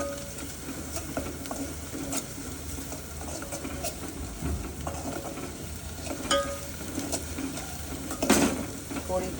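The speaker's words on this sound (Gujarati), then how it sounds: "ગેસ ફૂલ કરી દેવાનો એટલે ફટાફટ મરચું લસણ" Green chilies and garlic roasting in a hot pan on full gas for Gujarati kadhi, a continuous crackling sizzle with scattered pops and occasional clinks of a utensil against the pan.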